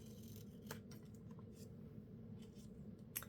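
Scissors cutting paper at an angle for layered journal tags, faint snips and rustles close by over a low hum, a few soft cuts with quiet pauses and no speech.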